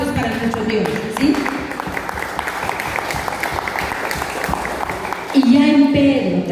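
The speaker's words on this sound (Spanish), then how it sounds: "Y luego aplausos para nuestro Dios, ¿sí?" A church congregation claps during a Spanish-language sermon, loud, dense applause filling the room throughout. A sustained sung or spoken tone sits beneath the clapping at the start and again near the end.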